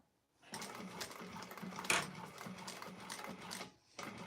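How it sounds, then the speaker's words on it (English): A sewing machine top-stitches along a zipper pouch in quick close bursts of rapid needle clatter, pausing briefly before resuming. "So I'm just starting, just like you're top stitching along the zipper pouch."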